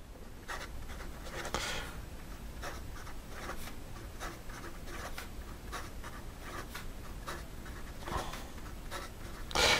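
A Classic Pens LR8 fountain pen with an 18 karat nib is dragged quickly across paper, giving close, rhythmic scratchy strokes and short taps in quick succession, with no talking.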